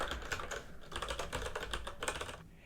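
Typing an email address on a keyboard: a steady run of soft, close key clicks in irregular rhythm, fading slightly at the end, with no talking.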